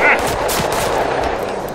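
Rapid AK-74 automatic gunfire in the zombie shooter game Totally Accurate Battle Zombielator, a loud, dense burst of shots running nearly two seconds without a pause.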